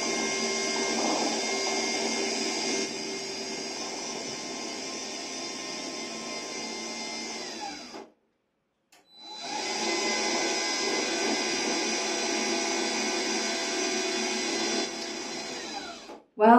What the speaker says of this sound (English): I know this is the new hoist.